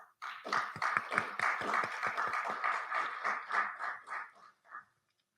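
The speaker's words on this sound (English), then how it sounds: "I would like everyone to have a round of applause for all the presenters" A burst of applause from a conference audience for the presenters, steady clapping for about four seconds that thins out and stops.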